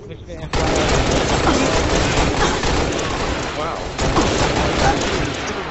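Dense, continuous gunfire from a Halo Reach match in a tournament, with rapid overlapping shots and bursts running almost the whole time and players talking over the action.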